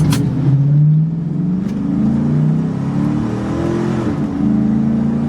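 A Dodge Ram SRT10 pickup's engine revs hard at partial throttle, a loud, steady low growl that climbs and holds for several seconds before easing slightly, with no talking.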